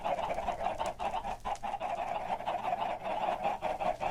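Chickens cluck in Minecraft, a steady stream of overlapping, nasal squawks and clucks from several birds gathered close together, with no talking.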